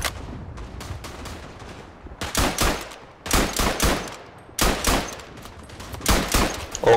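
Machine gun fire in the World War I shooter Verdun on the Artois map, rapid bursts of broadband shots in several clustered volleys, loud and close, with no talk.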